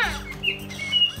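A Luvabella toy doll plays a bird sound, a quick run of bright chirps and tweets, close and clear with no talking.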